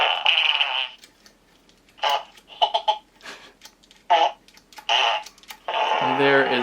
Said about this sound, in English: 8 fart sounds, the small mini blaster